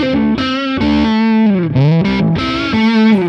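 An electric guitar runs through a Menatone The King overdrive distortion pedal on a scooped, neck-pickup setting, playing loud sustained distorted notes with bends and slides, alone.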